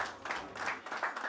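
An audience applauds a jazz group's pledge to a foundation, a short burst of steady, moderately close clapping.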